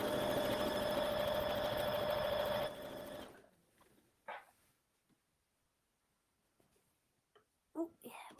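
A sewing machine stitching a rail fence quilt hums steadily and close for about three seconds, then stops, followed by faint handling noises and soft talk.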